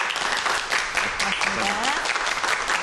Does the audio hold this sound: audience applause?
yes